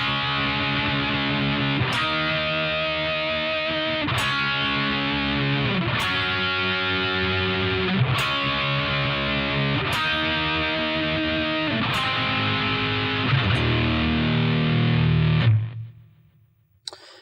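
A distorted electric guitar chugs a slow verse rhythm of power chords rooted on the open low E, heavy chords struck about every two seconds. The last chord rings out, then cuts to near silence.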